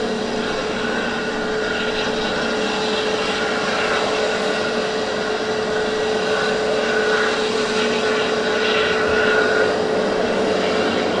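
An easyJet jet at Southend Airport sits ready to depart, its engines giving a steady, loud broadband roar with a faint whine, constant throughout with no talking.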